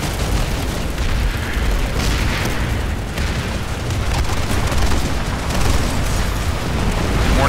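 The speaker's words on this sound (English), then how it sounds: "Grenades everywhere." Grenade blasts in a Planetside 2 firefight, a loud continuous wall of booming explosions and dense battle noise, with no pauses.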